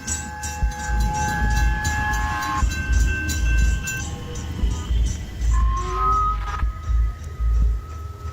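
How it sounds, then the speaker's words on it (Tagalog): A train passes at dawn with a deep rolling rumble and rhythmic wheel thumps, while long horn tones sound over it before the noise begins to fade. "sa pagdaan ng tren"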